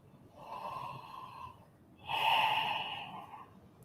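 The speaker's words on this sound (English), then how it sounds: "Take a nice breath in." Two slow, deep breaths during a yoga flow, an airy inhale-like hiss followed by a louder, fuller exhale after a short pause, close and soft with no speech.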